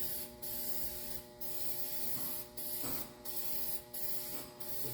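Short bursts of spray paint hiss close by as a light coat goes onto a van, with about six separate passes and brief gaps between them.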